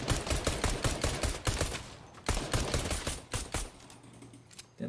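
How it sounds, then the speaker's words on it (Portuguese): Rapid bursts of gunfire in Fortnite come in clustered volleys, loud and sharp, interleaved with keyboard-like clicks and brief pauses. "Já tem alguém me atirando já."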